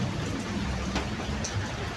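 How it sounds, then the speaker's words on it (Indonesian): Steady rain falls outside, a dense, even hiss of drops on surfaces that holds constant throughout, with no voices. "Lagi hujan guys di luar"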